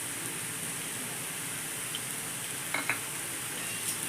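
Taro leaves with grated coconut being stirred in a frying pan: a soft steady sizzle with a few faint scraping strokes of the spatula, fairly quiet and close, with no voices.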